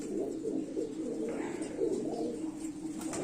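Pigeons coo in a loft holding about 35 males paired for breeding, a soft, repeated throaty cooing over a faint background hum.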